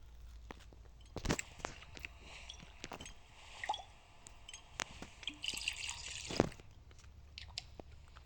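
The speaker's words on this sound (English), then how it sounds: "Here, pour it into the atomizer." Luminol being poured into an atomizer bottle in the game Murder in the Alps, heard as faint, sparse drips and small liquid splashes with a few light clicks, quiet and close, with no talk.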